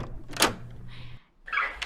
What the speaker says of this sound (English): the door of the workshop opened quietly